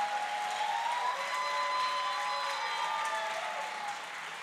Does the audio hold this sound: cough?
no